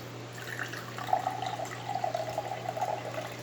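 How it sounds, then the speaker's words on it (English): Water trickles steadily into a cup, a soft continuous stream with a faint rising pitch as the cup fills, quiet and close with no talking, over a low steady hum. "You're going to listen to the water drip into this cup"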